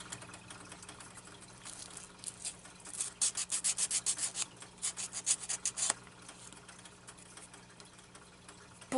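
A fingernail is buffed with the softer side of the file from an Orly Rescue Nail Kit, making a quiet run of about a dozen quick, rhythmic rasping strokes that start and stop abruptly, with no talking.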